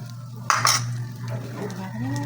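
A utensil clatters sharply against a pan while egg and bitter gourd are stirred, followed by a soft ongoing sizzle and faint scraping, with no talk.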